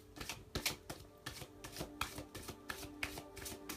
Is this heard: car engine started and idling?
no